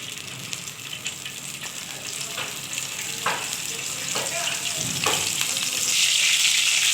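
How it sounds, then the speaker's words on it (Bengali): Small-cut potatoes fry in mustard oil in a pan already used for frying pointed gourd, a soft continuous sizzle with occasional crackles and stirring scrapes that grows louder toward the end. "আমি একটুখানি আলুটা ভেজে নিচ্ছি"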